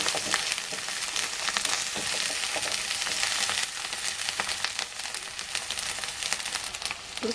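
Masala sizzles steadily in a hot pan after a spoonful of turmeric is stirred in, for a spiny gourd curry; a continuous close crackling fry with scraping stir noises throughout.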